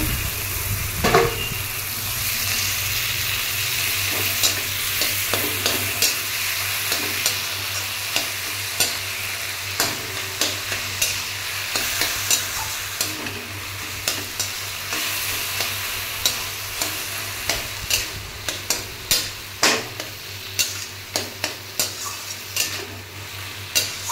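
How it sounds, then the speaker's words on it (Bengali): Taro leaves fry in a pan with onion, garlic and green chilli, a steady sizzle running throughout while a utensil stirs and scrapes the pan in regular knocks that sharpen toward the end. "শুধু পেঁয়াজ আর রসুন আর কাঁচা লঙ্কা দিয়ে আমি এই কচুর পাতাটা করব।"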